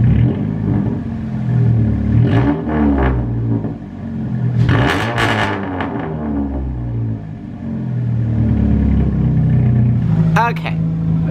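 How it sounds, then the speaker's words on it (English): A car with a ZZP 2.5-inch downpipe, a G5 project car, revs several times in short bursts, its raspy engine note rising and falling loud and close, with a person talking over parts of it. "I think it's time for a couple revs, just like we did in the before clip."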